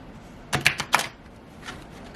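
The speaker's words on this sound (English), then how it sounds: "I'm not that good at shuffling, but I still try." A deck of tarot cards is shuffled by hand in a few quick riffling bursts, close and crisp, followed by a softer brief rustle, with no talking.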